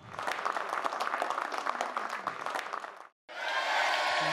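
Audience at a Haryanvi New Year music program giving a loud round of applause for the country's soldiers, dense clapping for about three seconds that cuts off briefly before a brighter, steadier crowd sound returns.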